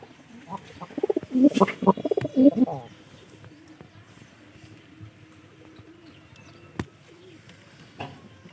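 Pigeons in a loft give a close cluster of soft, throaty coos in the first few seconds. Quiet ambience follows, broken by a couple of brief knocks.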